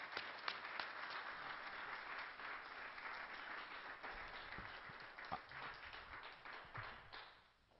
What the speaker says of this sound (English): let's give Dr. William Deagle a warm round of applause at the Granada Forum